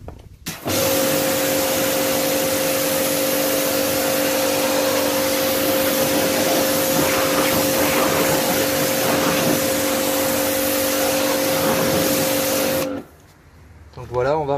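A pressure washer or water jet rinses car wheel rims, a loud steady hiss with a constant motor hum that runs unbroken for about twelve seconds, then cuts off abruptly near the end.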